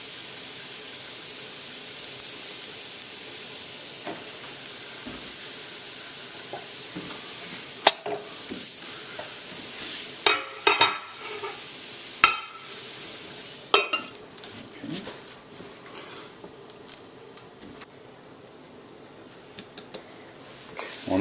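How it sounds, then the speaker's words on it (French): Roasted potatoes with onions and garlic are stirred in a frying pan, a soft continuous sizzle broken by intermittent scraping clicks of the utensil, growing busier and more frequent toward the end. "On ajoute les oignons et l'ail. Et on fait juste mélanger"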